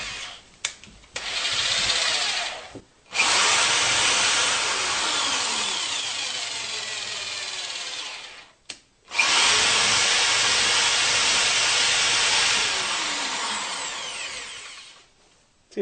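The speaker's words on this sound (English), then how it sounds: "I'm just going to use a drill here." Electric drill turning the lead screw of a shop-built tilting router lift: two long, steady whirring runs of about six seconds each, separated by a brief pause, loud and close, with short bursts at the start.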